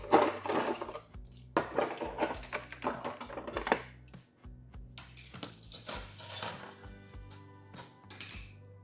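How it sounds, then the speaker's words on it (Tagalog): Metal spoons clink and clatter as they are washed, with irregular bright jingles and knocks of cutlery against each other and a basin across the whole stretch. "Hugasan na natin lahat ng kutsara."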